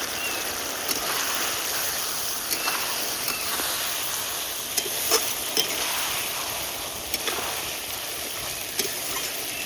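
Koi fish curry cooking in plenty of oil with garam masala powder, giving a continuous broad sizzle with faint scattered crackles, steady and close with no talking.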